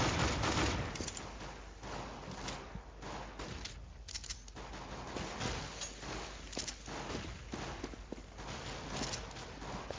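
Rapid bursts of gunfire crackle through a round of the CS:GO game, with repeated shots and fusillades spread across the whole stretch at moderate volume.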